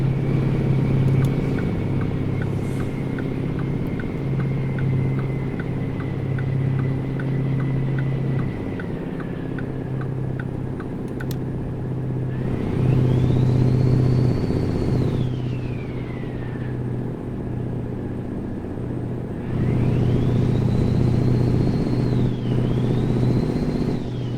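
Truck cab in American Truck Simulator while driving, a steady low engine hum and rumble with a whining tone that rises and falls as the truck shifts and accelerates, continuing throughout without talk.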